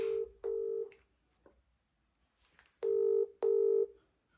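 Telephone keypad tones beep in short steady bursts, followed by loud ringback tones on a call placed from home, each ring a sustained buzzing tone with silent gaps between.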